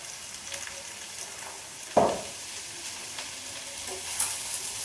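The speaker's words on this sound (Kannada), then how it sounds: "ನೀಟಾಗಿ ಫ್ರೈ ಮಾಡ್ಕೋಬೇಕು." Garlic, ginger and green chillies fry in hot oil in a pan, a soft, steady sizzle with one sharp stirring scrape partway through.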